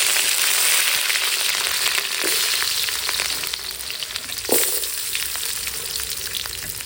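Curry leaves, small sambar onions and sliced big onion fry in hot oil for a koduva fish curry, a loud, dense, continuous sizzle with a brief sharp crackle partway through.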